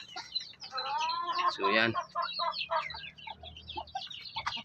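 Hens cluck and call repeatedly close by while chicks are fed soaked starter pellets, someone speaks briefly over the birds.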